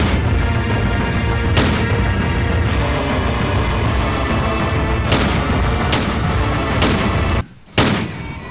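Gunfire in the Dreamland R video game while shooting at a giant baby, dense continuous shots with loud sharp bursts near 1.6, 5, 6, 7 and 8 seconds and a brief drop just before the end.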